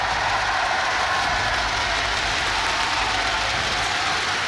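Crowd applause at a Rainbow Six Siege Year 5 and Year 6 reveal event, a steady, dense wash of clapping and cheering that fills the whole stretch without pause.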